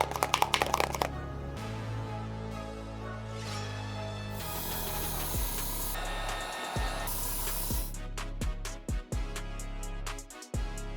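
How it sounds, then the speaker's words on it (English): An airbrush sprays white paint onto leather Jordan 4 sneakers, a steady close hiss with a compressor-like hum, breaking into short clicking and tapping bursts toward the end. "I'm gonna be using the airbrush for this step."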